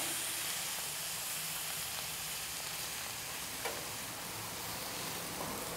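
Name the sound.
skirt steak searing on a hot griddle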